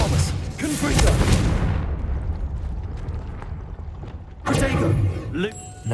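Expelliarmus cast in Hogwarts Legacy, a video game: a loud booming rush of energy that fades into a quieter rumble, then a second forceful burst erupts near the end.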